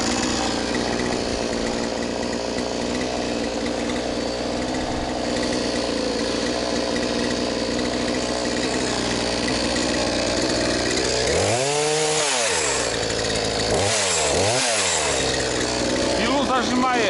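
A Champion gasoline chainsaw cuts a birch tree hanging across a river, its engine droning steadily at high revs, then dipping and rising in pitch as the bar binds in the wood near the end.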